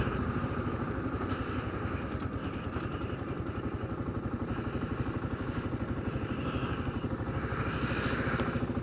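A motorcycle drones on a loop ride near Te Kamo in New Zealand, its engine pulsing low and steady throughout. Loud, constant rumble with wind and road noise on top and no talking.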